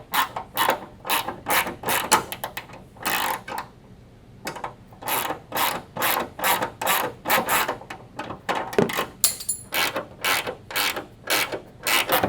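A ratchet clicks in quick repeated rapid strokes, tightening 13mm bolts on a 74-inch wide-body rear wing of a C5 Corvette, close and crisp with short pauses between bursts, no talking.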